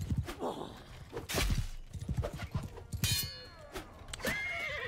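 Horse whinnies and neighs in Mount & Blade II: Bannerlord combat, with a clatter of hooves, brief impacts and battle noise around them, loud and close in several bursts.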